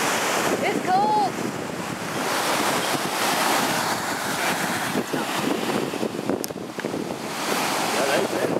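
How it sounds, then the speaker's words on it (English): Big ocean waves crash and wash continuously onto a cold beach, a loud steady roar of surf mixed with wind buffeting the microphone and a brief faint voice. "A pretty water with the big waves."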